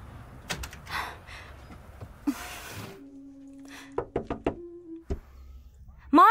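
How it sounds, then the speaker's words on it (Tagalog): Knocking on a house door in a horror drama: several sharp raps and thuds, some in quick clusters, near and loud, with a voice calling out between them. "Marge, buksan mo ang pinto, pakiusap."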